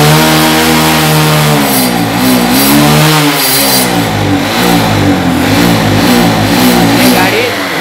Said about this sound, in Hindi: गाड़ी मिस कर रही है।